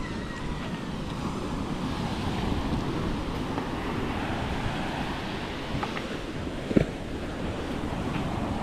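Continuous seaside surf and wind roar at a beach, a steady broadband wash with gusty buffeting and a brief sharp knock near the end.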